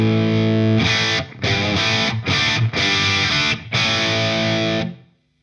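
A loud, heavily distorted electric guitar chord through a Marshall 2204 amp rings out, re-struck several times with brief dips, then cuts off abruptly.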